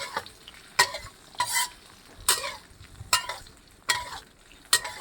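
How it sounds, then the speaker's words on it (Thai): Isaan fermented pork sausage (naem) fries with chilies in oil over low heat, a soft sizzle broken by scraping stirs and clinks of the utensil against the pan at close range. "ทอดแหนมกับพริก"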